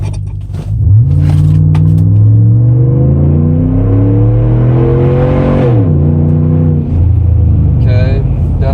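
A Ram 1500 pickup truck launches hard from a standstill, its engine revving loudly through rising gear sweeps with a brief shift dip, the tires spinning as it pulls away close by with no talk over it.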